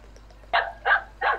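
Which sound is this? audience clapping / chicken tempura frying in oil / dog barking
dog barking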